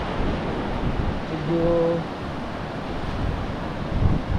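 Soft, low wash of small waves on a shore, steady and gentle, with wind rumble and a brief faint tonal hum in the background.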